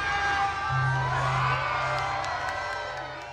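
Crowd cheering and shouting at a San Juan Christmas tree lighting in front of City Hall, a steady lively roar of many voices with a low sustained tone rising briefly, moderately loud throughout.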